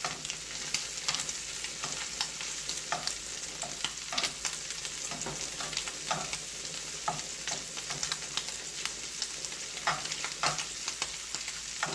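Shrimp sear and sizzle steadily in a hot pan for a creamy shrimp scampi, with scattered clicks and scrapes as the pieces are turned, close and continuous with no talking.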